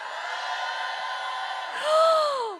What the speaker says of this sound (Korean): 자, 응원의 함성 발사!